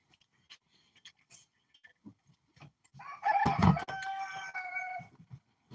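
Chickens on a homestead cluck and crow close by, with a rooster-like call rising loudly midway and sustaining for a couple of seconds among scattered faint clucks and rustling.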